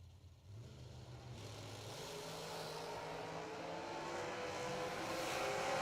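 An American Dragster drag racing car at a 2022 event makes its run: a steady, rising engine roar heard from a distance that builds in loudness over several seconds, with crowd and track ambience beneath.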